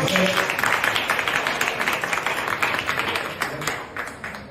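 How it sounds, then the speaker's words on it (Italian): Audience applause at a charity risotto dinner in Brescia, steady dense clapping from a seated crowd that fills the room throughout, fairly close and even in loudness. "Un applauso."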